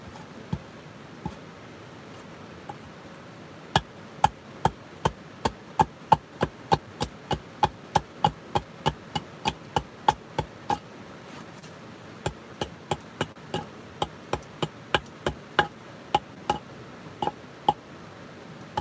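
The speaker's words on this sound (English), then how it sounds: "Just getting some shavings off of a heavier log." A blade shaves thin curls off a heavy log, like working an oversized feather stick at a forest campsite: a long, steady series of crisp, close clicks and scrapes, dozens in a row, with no voices.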